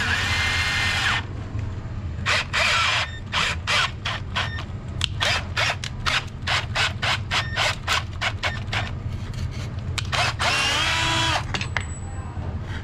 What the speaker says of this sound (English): Now to make a hole for the next one. Use the step bit again.